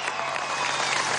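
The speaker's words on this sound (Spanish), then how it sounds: "Un aplauso para nuestro presidente" Dense applause from a large crowd at an event for Venezuela's president Nicolás Maduro, a short, steady, loud burst of clapping with no voices over it.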